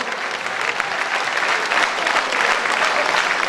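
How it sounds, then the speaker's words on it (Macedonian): Steady applause from a crowd at a political campaign rally, honoring a local businessman named best entrepreneur; dense, even clapping sustained throughout without pause. "Ќе молам да го наградиме со еден аплауз."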